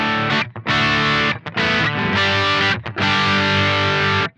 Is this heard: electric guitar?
yes